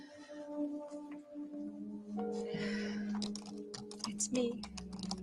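Keyboard typing as a sound effect in a TV drama: scattered clicky keystrokes in short bursts, mixed with people talking and faint background music.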